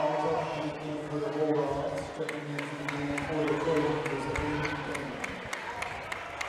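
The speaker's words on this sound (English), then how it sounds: "Pretty tame crowd tonight." A fairly subdued basketball crowd in a school gym murmurs steadily, with scattered claps, squeaking shoes and bouncing balls, while commentators talk over it.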